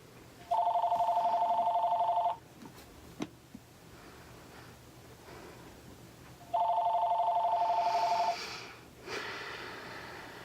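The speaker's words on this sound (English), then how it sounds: "the phone is ringing" A telephone rings twice, each a trilling electronic ring about two seconds long, separated by a pause with soft breathing and small noises.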